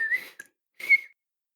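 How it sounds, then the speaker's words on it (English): A person whistles two short, quiet notes separated by a brief pause, with nothing else around them. "I really thought I could do the whistle."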